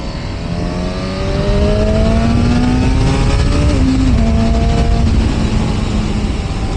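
A Honda CB1000 Hornet motorcycle accelerates hard, its engine note climbing steadily in pitch through gear changes, loud and close throughout.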